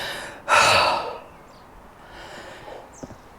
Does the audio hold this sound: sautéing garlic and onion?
no